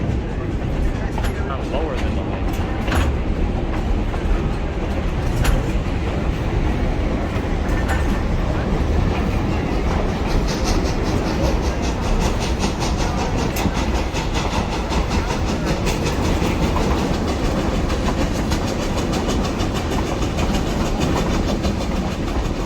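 A Durango and Silverton narrow gauge train climbing through tall ponderosa pines, giving a steady, continuous rumble and rhythmic clatter of wheels on rails, with a voice talking over it.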